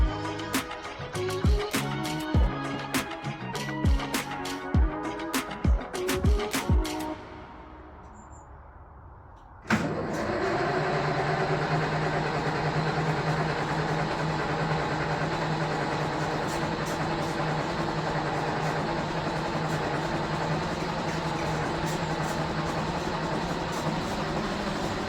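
A diesel engine fitted with a freshly changed diesel filter cranks with a run of sharp irregular clanks and clicks, pauses, then catches abruptly and settles into a loud, steady, close idle with a deep knocking rumble, with no talking.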